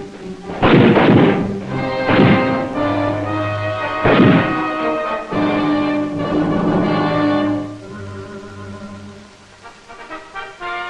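Rifles fire in bursts during army training, loud booming reports in several separate blasts with rumbling decay between them, on an old archive recording.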